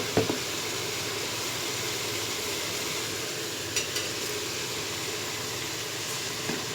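Soya chunks (meal maker) fry with turmeric and salt for a vegetable biryani, giving a steady, even hiss with a few faint clicks and taps, close but fairly quiet, with no voices.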